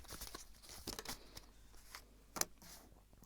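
Tarot cards are shuffled by hand, making soft papery rustles and scattered crisp flicks with one sharper snap, close and quiet with no voices.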